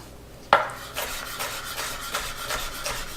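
A chef's knife slices a green pepper into julienne strips on a wooden cutting board, giving a sharp first cut followed by a steady rhythm of quieter, evenly spaced chops, close and alone without talk.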